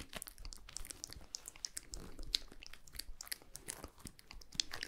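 Soft, close crinkly squishing and crackling of a squishy toy ice cream, a rapid stream of small squeezing noises with no talking.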